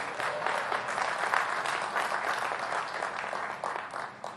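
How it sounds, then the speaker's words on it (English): Sustained applause from a large commencement audience at Morehouse College fills the hall, a dense steady clatter of clapping that holds evenly throughout, loud and close with no talk over it. "You can clap for him."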